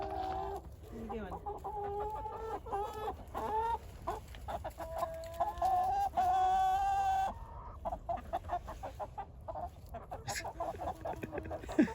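Busy goose calls, a run of honking and clucking birds close by, overlapping in rapid bursts with a steady farmyard hum underneath.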